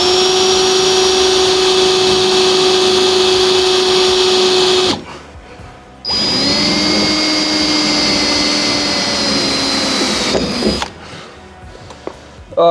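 A power drill bores through billet metal on an Ultima RS kit supercar, a loud steady whine that runs for about five seconds, stops briefly, then resumes for another four or five seconds before cutting off.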